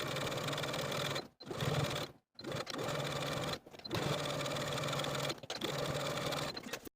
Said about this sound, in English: Then I'll take it to my sewing machine and top stitch those finished edges all the way around